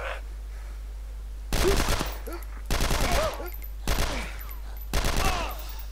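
Gunfire in the video game DayZ, four bursts of rapid automatic shots separated by short pauses, loud over a low steady hum, no talking.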